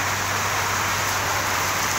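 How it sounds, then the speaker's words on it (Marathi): A downpour of heavy rain keeps up a constant, even roar of falling water, near and unbroken throughout, with nobody speaking. "ये देखो बहुत बारिश आ रही है."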